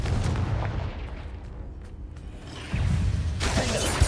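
A Confringo spell blast in the Hogwarts Legacy video game, heavy booming impacts and rumbling bursts with a sharp crack near the end, no voices.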